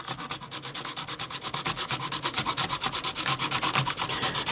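Close, steady back-and-forth scraping across the wooden deck boards of an ExactRail bulkhead model flatcar to weather them, a loud rasping stroke repeating about five times per second with no talk.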